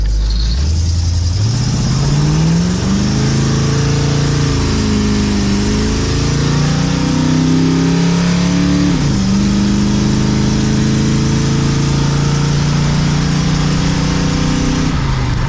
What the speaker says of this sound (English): The exhaust leak has gotten so bad in this car